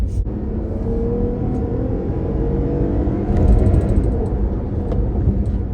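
A 2021 Toyota Highlander drives along with a steady engine rumble and road noise from inside the cabin, swelling slightly as it picks up speed partway through.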